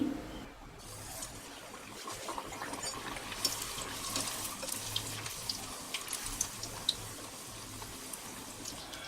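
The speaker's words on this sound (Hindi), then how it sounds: "अब मैं इसमें एक एक करके पूरियों को डाल के इसे तल लूँगी।" Samo rice puris, a fasting-day puri, fry one by one in hot oil over a low to medium flame, producing a faint, continuous bubbling hiss with light crackles throughout.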